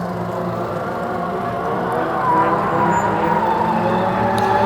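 A small tow truck drives up at Tsukuba Circuit, its engine note swelling steadily louder as it nears, with a continuous mid-range drone and no speech.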